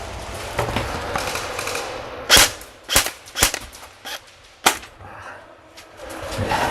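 Airsoft gun shots during a game, a handful of sharp cracks fired singly and in a quick pair, near and loud over a low outdoor background.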